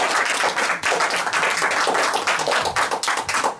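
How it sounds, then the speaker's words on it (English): A burst of clapping and applause from a small crowd, sustained and lively throughout with dense overlapping hand claps. "Go on and give a round of applause."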